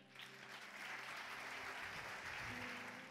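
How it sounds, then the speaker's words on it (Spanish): A church congregation at an evening service claps in sustained, building applause, a dense wash of hands with faint tonal hum from instruments or sound system beneath. "Dale un aplauso fuerte a Él."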